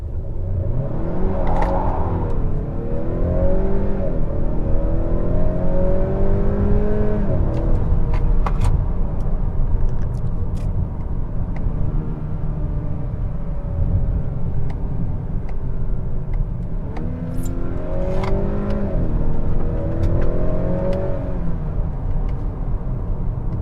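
Interior view from a 2021 Honda Accord 2.0T Touring under hard acceleration: a loud, steady engine drone and road rumble rising in pitch through the gears, with two clear upshift sweeps, no talking.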